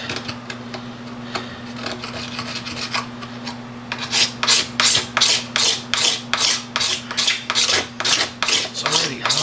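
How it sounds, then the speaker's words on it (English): A blade scrapes a plastic motocross gas tank in a steady series of close, loud rasping strokes, quiet scraping at first and then about a dozen even passes over a constant low electrical hum. "I am going to use the more aggressive side of the blade, but I'm going to be careful as I can be not to cut down into the plastic"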